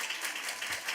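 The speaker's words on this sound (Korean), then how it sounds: "우리 박수 한번 주세요" A brief burst of congregation clapping during a Sunday church service, a short, fairly faint patter of many hands lasting about a second.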